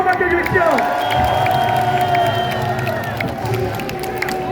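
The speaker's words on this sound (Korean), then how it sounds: "큰 박수로 맞춰주십시오." A crowd at a Korean election campaign rally in Anyang cheers and claps amid loud, ringing music with shouts and a bustling, outdoor din, voices mixed in.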